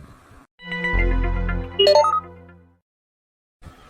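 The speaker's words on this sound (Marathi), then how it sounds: "बाई माझ्या फोन वाजून राहिला" A mobile phone ringtone plays loud and close: a sustained electronic tone followed by a quick rising run of chime notes, then it stops, with short bits of sound before and after.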